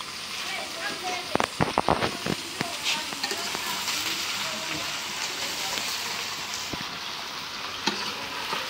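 Ridge gourd fries in a pan with a dense, steady sizzle and crackle, while a utensil scrapes and stirs in a cluster of sharp clacks early on and a few more later.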